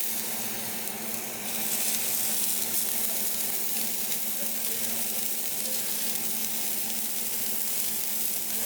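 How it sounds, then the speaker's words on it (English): Oil sizzling hard in a skillet turned up high for smash burgers, a steady, loud, close frying hiss that swells after the first second and then holds evenly with no talk over it. "crank it up high and add some oil and allow that oil to get nice and hot"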